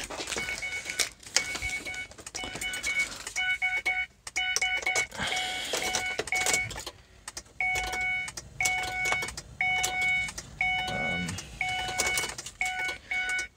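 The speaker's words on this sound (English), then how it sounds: "ever since I connected the battery, the alarm's been going off like crazy" A car alarm chirps in repeated rapid electronic bursts right after the battery is reconnected, sounding loud and close in a steady stop-start rhythm.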